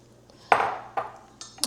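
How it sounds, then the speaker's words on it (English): Water poured into a cooking pot of cabbage for a Haitian vegetable stew, three sharp metallic clanks and splashes each fading quickly, close and fairly loud, with no talk. "I'm going to add 2 cups of water in here"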